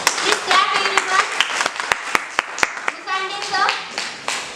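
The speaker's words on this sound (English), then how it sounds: "Please clap everyone." A school Teachers' Day audience claps in bursts of hand claps with short pauses between them, while children's voices chatter over and between the applause.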